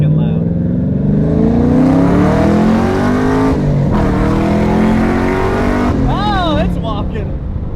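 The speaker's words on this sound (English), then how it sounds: "2015 Camaro 1LE. It's not fast, but it's really freaking loud." A loud 2015 Chevrolet Camaro 1LE revs hard downtown, its engine roaring close and sustained with rising and falling harmonics, a brief dip mid-clip, and short rising tonal squeals near the end.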